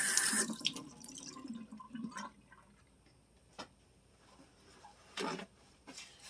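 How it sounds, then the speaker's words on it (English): Tap water gushes into a kitchen sink as someone washes their hands mid-cooking, a loud burst at first, then quieter splashes and short running spurts. "I'm going to wash my hands a little bit because that onion is some kind of strong."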